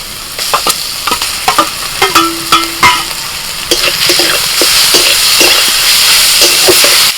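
Chopped prawns sizzle in a hot pan as a spatula scrapes and stirs in quick, irregular strokes; the frying hiss swells louder and steadier toward the end.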